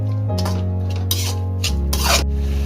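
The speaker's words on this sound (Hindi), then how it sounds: "सारे इंग्रेडिएंट शामिल करने के बाद अच्छी तरह से मिक्स करेंगे" Beef dry chilli ingredients, including black pepper and salt, stirred together in a pan, giving a few close scraping, rubbing strokes over a steady low hum and faint sizzle, with no talking.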